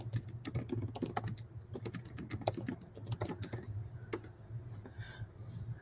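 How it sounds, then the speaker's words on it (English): Rapid keystrokes on a computer keyboard in a studio, clicking in quick irregular bursts with brief pauses, close and fairly quiet over a low steady background hum. "I guess I'll type that."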